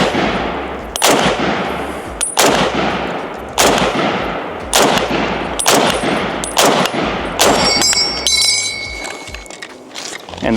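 Rapid bursts of rifle fire from a British Enfield No. 4 Mk 1 in a film battle scene, loud sharp reports in an uneven sequence with metallic clinks and ringing near the end.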